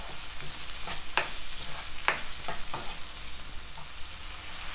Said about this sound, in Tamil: இதை லைட்டாக வதக்கிட்டு ஒரு மூடி வச்சு நம்ம தக்காளி வேக வச்சிடலாம்.